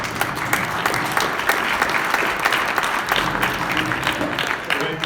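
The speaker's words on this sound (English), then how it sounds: "And that's worthy of applause." Steady applause from a large audience at a soil health summit, a dense continuous patter of many hands that fills the room evenly and carries on without any voice over it.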